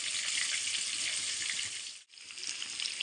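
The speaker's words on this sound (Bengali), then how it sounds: "কুমড়ো ভেজে নিচ্ছি" Pumpkin pieces fry in a pan of oil with a continuous bright sizzle, briefly cutting out for a moment before the crackling hiss resumes at the same level.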